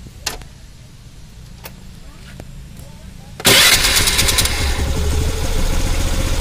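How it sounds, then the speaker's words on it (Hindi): A Honda Activa scooter with a newly adjusted carburetor cranks and starts partway through, then settles into a loud, steady idle close to the microphone after quiet background moments. "अब अपनी गाड़ी हम स्टार्ट करेंगे।"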